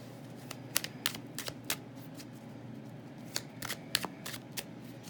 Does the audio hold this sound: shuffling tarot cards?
yes